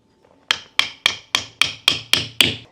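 Eight evenly spaced sharp hammer taps drive a plastic wall plug into a drilled hole, each knock crisp and close with a short decay.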